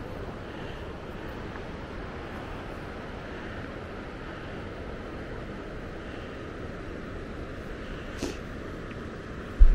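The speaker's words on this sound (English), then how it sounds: "You can hear the river." Steady broadband rushing of a river flowing through an autumn glen, continuous and fairly even, with a faint outdoor breeze and a brief knock near the end.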